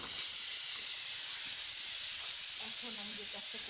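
A pressure cooker on a gas stove hisses steam steadily and loudly while cooking caramel egg pudding, with faint talking underneath near the end.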